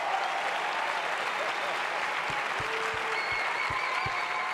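Sustained audience applause fills a TEDx event hall, dense and steady throughout, with a few low thumps near the end.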